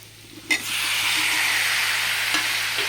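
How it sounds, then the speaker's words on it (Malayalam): Tomatoes with turmeric sizzle in a hot pan, a loud steady frying hiss that swells after a sharp initial clack, with another brief knock partway through and no talking. "തക്കാളി ഒന്ന് വെന്ത് കൊടുക്കണം"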